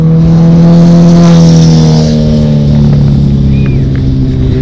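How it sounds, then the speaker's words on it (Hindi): Cars and super bikes race along a city street in Baku, their engines producing a loud, steady roaring drone with rising revs throughout, close and continuous without pause. "ऐसे ही लोग उड़ा रहे हैं कार बाइक सब, मस्त आवाज़ें ऐसी फुल फुल कर रखी हैं"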